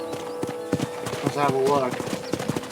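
Hooves of a horse in the western game Red Dead Redemption clip-clop in a steady rhythmic beat, close and clear, while someone talks over them.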